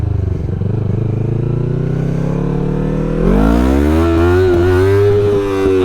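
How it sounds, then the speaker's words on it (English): An MT-03 motorcycle accelerates hard in first gear for a power wheelie, its engine note climbing steadily, then jumping louder and rising again close by. "I should see if it'll do a power wheelie in first, right? We should try that."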